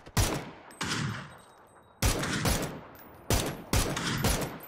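Gunfire from a weapon in the video game PUBG, several loud sharp shots in bursts of one to three with brief echoing tails between them.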